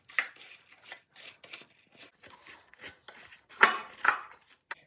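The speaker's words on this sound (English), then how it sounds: "now I need to mix the biscuits with the butter until it's thoroughly combined." Crushed biscuits being mixed with butter in a mixing bowl for a banoffee pie, heard as irregular close scraping and crunching strokes with short pauses, two louder scrapes near the end.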